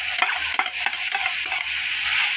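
Fried eggs tumbled into fried rice in a hot pan, a steady bright sizzle running throughout with repeated quick scraping strokes of a spatula, close and fairly loud with no voices.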